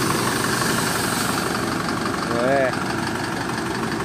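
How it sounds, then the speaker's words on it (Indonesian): Diesel engine of an old Mercedes-Benz MB 1518 Damri bus idling with a steady, rough mid-range rumble, close by and continuous, with people talking over it. "Garing ya masih suara mesinnya."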